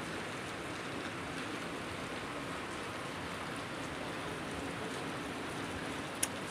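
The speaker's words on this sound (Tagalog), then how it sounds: "Ito yung unang ulan ng Hunyo" Steady, even hiss of the first June rain falling, a constant wash of drops with no voices and a single brief tick near the end.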